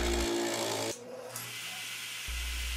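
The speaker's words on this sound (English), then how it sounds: "it's off to our modified central machinery mortising machine" A modified Central Machinery benchtop mortising machine cuts square holes in wood, a low motor hum that drops briefly as the chisel bites, then resumes, heard close with no talking.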